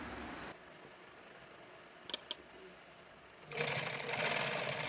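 A sewing machine stitches elastic into a palazzo waistband, a faint whirring run that pauses into near quiet with a couple of small clicks, then starts up again louder.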